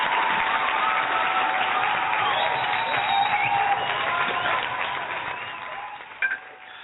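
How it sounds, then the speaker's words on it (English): A talk-show audience applauds with steady, thin clapping that holds level, then gradually fades, with a short knock just before it ends. "You deserve an applause for that."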